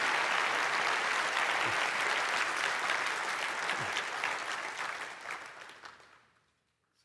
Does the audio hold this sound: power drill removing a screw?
no